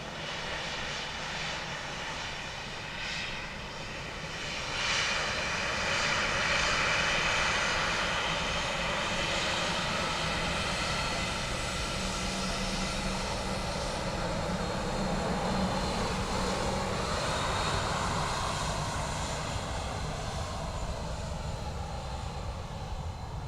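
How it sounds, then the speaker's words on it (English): Jet aircraft at Dublin Airport, among them a small Embraer Phenom business jet and a Boeing Dreamliner, give a steady, fairly distant engine roar that swells slightly after the first few seconds and holds evenly, with no talking. "Little Embraer Phenom behind the Dreamliner, Adrian says."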